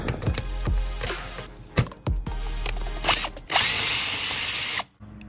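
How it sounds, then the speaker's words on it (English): A power drill backs out four or five 7mm screws from the underside of a car's front bumper splitter, with several short whirring bursts and one longer, louder run up close, no talking. "remove these 4 or 5 7mm screws or bolts"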